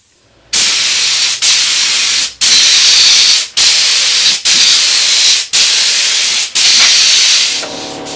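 A spray gun lays finish onto the cabinet of an Astor KK radiogram under restoration, loud close hissing bursts in seven passes of about a second each, separated by brief pauses.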